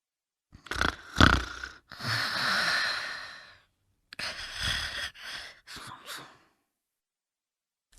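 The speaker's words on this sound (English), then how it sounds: "Snore!" A person snores in several drawn-out, rasping breaths, loud and close, with pauses between them and no other sound.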